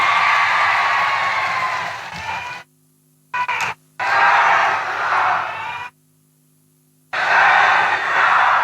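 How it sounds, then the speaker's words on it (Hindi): Crowd at an outdoor political election rally clapping and cheering for a candidate, loud dense applause in bursts separated by abrupt silent gaps. "मेघना बोर्डीकर जी के लिए जोर से ताली बजाओ"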